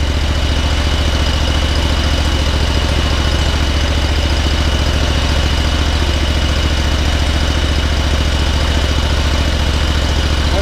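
A Kawasaki FX921V V-twin engine on a John Deere 960M mower idles with a loud, steady, even rumble from start to finish, no voices.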